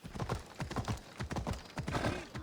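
Horse hooves clip-clop in a steady, close galloping rhythm while riding through Athens at night in Assassin's Creed Odyssey, loud and continuous with no talk over it.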